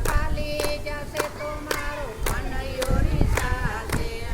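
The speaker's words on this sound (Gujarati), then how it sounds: "તાળી પાડો તાળી" Rhythmic hand claps keep time with a sung devotional song, sharp, evenly spaced claps about every half second over a melodic voice and music.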